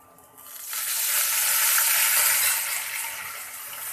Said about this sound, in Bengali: পাঁচফোড়ন পুড়ে গেলে ভালো লাগবে না, এর জন্য এখনই এর মধ্যে আমি কিছুটা জল দিয়ে দেব।